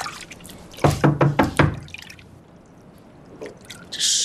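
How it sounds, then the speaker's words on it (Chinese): Someone knocks on a home's door late at night: a quick run of about five sharp, close raps, followed by quiet. "这么晚了来敲门？"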